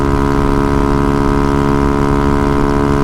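A Honda Ruckus scooter fitted with Met Gears, its engine held at high revs in a loud, steady droning buzz right up close, running continuously without a break.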